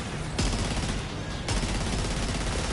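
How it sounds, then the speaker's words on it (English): Heavy machine gun fire in the video game Death Stranding 2, a dense continuous burst of rapid shots with a sharp jolt near the start and another heavy onset midway, loud and close, with no talking. "With this heavy machine gun, there's going to be a lot of recoil going up"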